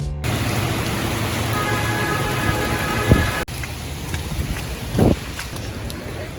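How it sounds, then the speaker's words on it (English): Steady rain in Panama City hisses in a continuous wash of noise, with a couple of brief knocks or rustles close to the microphone partway through. "It's raining."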